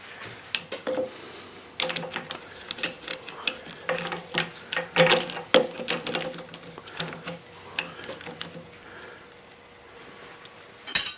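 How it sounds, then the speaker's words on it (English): A ratchet wrench removes a nut during a church bell repair, giving irregular bursts of sharp metallic clicks and clatter with brief pauses between them, close by. "we pull this nut off of here"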